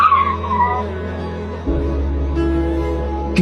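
A motorbike skids to a stop on a road with a brief tire squeal, then the engine keeps idling and rumbling close by.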